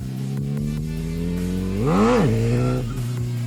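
Motorcycle engine held at a steady mid idle, then revved up sharply around the middle and dropped back as the rider feathers the clutch for a wheelie attempt; loud, close and continuous, with no talking.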